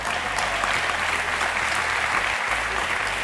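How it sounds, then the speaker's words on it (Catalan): A TV studio audience on a Catalan game show applauds in a steady, dense wash of clapping, loud and continuous throughout, with no voices above it. "Que entri, sisplau, un fort aplaudiment per la Shakira."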